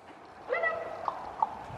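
Horses come in on a farm after being lunged, their hooves clip-clopping at a steady walk and growing slightly closer, with a few sharper knocks standing out from the softer footfalls.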